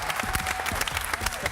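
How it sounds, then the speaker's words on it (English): A studio audience on a talk show claps in a brief, dense burst of applause. "Let's give him a round of applause."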